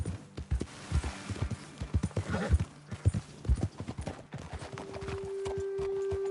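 Horse hooves clip-clop in Red Dead Redemption 2, a rhythmic run of close, heavy footfalls from more than one horse that slows and fades near the end, with no talking.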